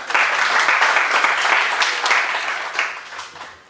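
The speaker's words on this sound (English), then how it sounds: "let's give them a round of applause before" An academic audience applauds the speakers at a cross-sector partnerships event, a burst of dense clapping that holds and then tapers off toward the end.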